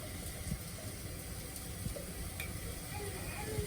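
Fava beans frying in oil and ghee in a pan give a steady, close, crackling sizzle that runs unbroken with faint clicks and pops scattered through it.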